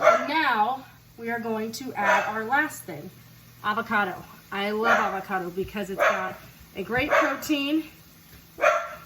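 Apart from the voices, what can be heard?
dog barking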